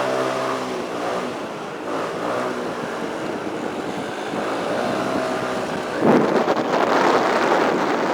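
A car approaching along a road, heard from a moving rider amid steady wind buffeting, its engine swelling gradually and growing louder near the end.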